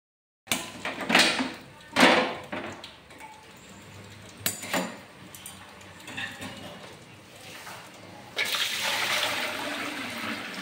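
Hot water pours into a pot while Konkani gajabaje, a GSB-style dish, is being cooked in a home kitchen. Splashing gushes come in a few bursts, then a steadier pour follows near the end, with occasional clunks of utensils.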